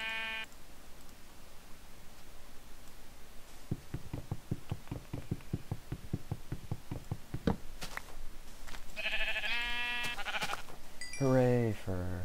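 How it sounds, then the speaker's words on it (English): Sheep bleating in Minecraft: a run of quick, evenly spaced footstep-like taps gives way to several nasal, wavering bleats close by, over a low background hum. "Alright, here's some sheep."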